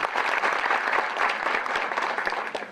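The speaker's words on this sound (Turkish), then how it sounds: "Bence en büyük alkışı isterseniz onlara gönderin." An audience at a 2012 tutoring-school award ceremony applauds steadily, a close, even patter of many hands clapping without pause.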